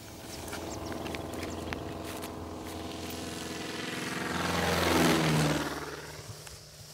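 A small search plane flying over Maasai land to locate a rhino drones steadily, its engine swelling louder as it passes close around the fifth second and then fading away.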